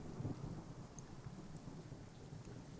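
Rain and thunder sound effect in an audio drama, a steady wash of rainfall with a low rumble of thunder near the start, soft and fairly distant, no voices.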